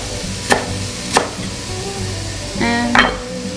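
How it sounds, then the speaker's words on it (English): A knife chopping fresh dill on a board, with a few sharp separate strikes and a short clatter of cookware over a faint pan sizzle, close and without talk. "I'm gonna cut up the fresh herbs and throw them in there."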